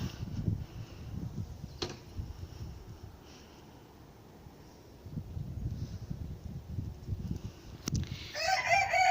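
Chickens and a rooster on a farm, heard as faint clucking and scratching over wind, with a short crowing call near the end.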